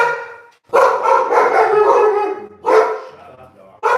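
A dog barks loudly and close by in a home, letting out drawn-out, howling barks with short pauses between them and no other sound around them.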